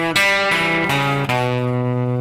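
Electric blues guitar plays a single-note lick in a classic blues riff, a few distinct picked notes ringing out with sustain and slight distortion, close and alone.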